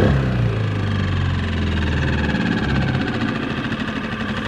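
A small boat outboard motor idles steadily right after starting, a loud close mid-pitched engine drone with a rough vibrating rumble that holds constant, fading slightly toward the end, with no talking.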